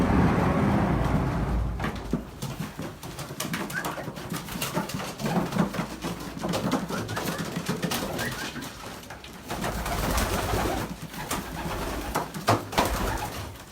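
Racing pigeons coo and rustle in a loft, soft overlapping calls and scattered wing flutters and clicks over a steady close background hum.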